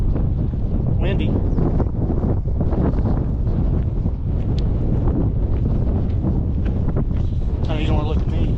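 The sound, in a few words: strong wind on a mountain trail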